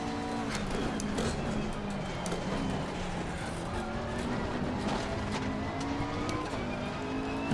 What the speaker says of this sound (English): did the car just lock up slightly?